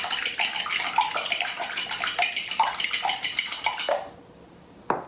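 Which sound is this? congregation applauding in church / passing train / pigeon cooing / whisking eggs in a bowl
whisking eggs in a bowl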